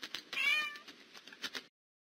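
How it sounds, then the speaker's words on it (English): A single high-pitched cat meow, quick and somewhat faint, with soft clicks and scraping noises around it and no voices. "Cat."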